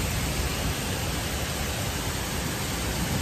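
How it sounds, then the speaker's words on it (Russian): Hail falls in the mountains, a dense, steady hiss of small stones hitting rock and ground, loud and unbroken throughout with no voices. "Пошел град."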